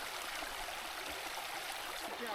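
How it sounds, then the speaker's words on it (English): Mountain creek in Utah's Tushar Mountains flowing straight out of the ground from a spring, a steady, soft rushing and babbling of water, continuous and fairly quiet with no voices. "Beautiful creek that is entirely sourced just right here,"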